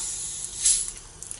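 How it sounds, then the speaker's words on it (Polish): A bottle of carbonated Kofola soda is opened, releasing a soft, close hiss of escaping gas with a brief louder fizzing burst partway through, then quieter crackling bubbles. "Słyszycie, jest gazowane."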